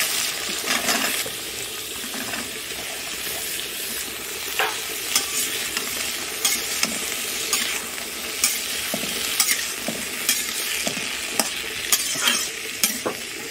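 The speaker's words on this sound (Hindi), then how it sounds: "अच्छे से तड़का भुना जाए तब आलू डालिएगा। आलू डाल लेते हैं" Steady loud sizzling of potatoes frying in hot spiced tempering oil, with occasional scraping stirs and clinks throughout, close up.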